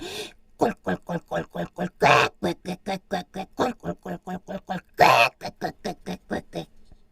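A voice imitates a pig with a long run of rhythmic grunting oinks, punctuated by a couple of louder, harsher squeals.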